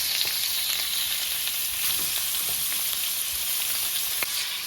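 Shrimp frying in a pan, a steady close sizzle with a bright hiss and small crackling pops throughout, no voices.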